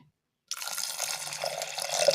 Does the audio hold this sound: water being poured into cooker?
yes